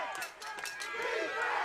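A crowd at a freshman playoff semifinal football game between the Deptford Spartans and Holly City Lightning cheers and shouts steadily, with broad roaring noise and rising yells throughout and no clear talk.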